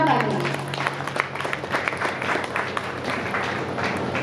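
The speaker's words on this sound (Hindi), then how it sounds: "इस बात के लिए इनके लिए जोरदार तालियां।" Audience applause at a Hindi poetry gathering, a kavi sammelan, moderately loud crisp clapping from a crowd, with a voice briefly heard at the very start before the clapping carries on alone.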